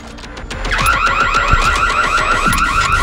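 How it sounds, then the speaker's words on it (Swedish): A loud car alarm blares in a rapid repeating electronic whoop, pulsing steadily and close by, with no talking. "Efter 3 minuter så går larmet igång."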